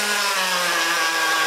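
Small nitro engine of a Traxxas Slash Nitro 2WD RC car idling just after an oiled air filter was fitted, a steady buzzing drone close by with revs sagging slightly lower, no talk.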